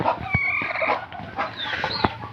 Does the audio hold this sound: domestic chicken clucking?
yes